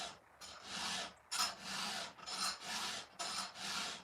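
A file rasps across a chainsaw chain during sharpening, close rhythmic strokes of about a half second each with brief pauses between, a dry gritty scraping heard alone without talk.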